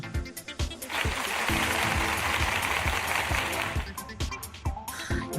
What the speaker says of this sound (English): a round of applause to the Naughty crew